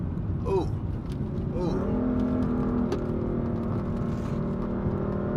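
BMW M4 on new wheels and tires powering out of turns on a mountain road, engine note rising in steady harmonic sweeps and holding a sustained drone, heard from inside the car with a voice speaking over it.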